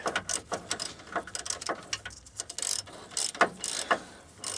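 A ratchet tightens brake caliper bolts on a car, with rapid clicking bursts near and fairly loud, stopping and starting in short runs.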